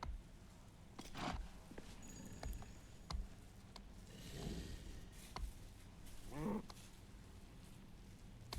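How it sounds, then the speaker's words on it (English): A dog plays with toys somewhere in the background of a room, giving faint scattered thumps, rustles and a few soft whimpery vocal sounds over a quiet, low hum. "I have a dog getting into all kinds of play toys back there."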